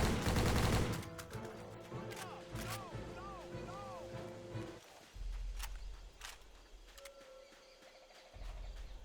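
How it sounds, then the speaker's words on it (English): Scattered gunshots in the Xbox 360 game Battle for the Pacific on Leyte Island, short sharp bursts over birdsong and footsteps, with a louder blast at the start and quieter stretches after. "I'm going to clean up the remaining enemies with my gun"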